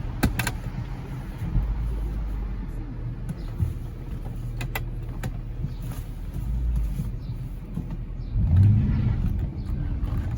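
A Bentley Arnage T V8 driving at a Rolls-Royce rally, heard from the cabin as a low, steady engine rumble with a couple of sharp clicks, swelling into a deeper surge as the car accelerates near the end.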